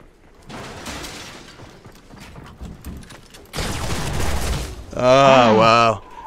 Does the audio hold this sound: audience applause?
no